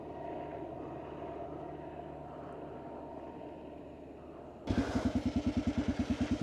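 A helicopter passes overhead near Calistoga wildfire burn scars, a faint distant drone that suddenly swells into loud, fast rhythmic rotor chopping for the last couple of seconds.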